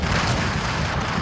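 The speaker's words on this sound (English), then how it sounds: "Go and drop some artillery on them if I can." An artillery strike lands in the video game Wargame European Escalation, a dense, rumbling boom of shell impacts filling the whole moment.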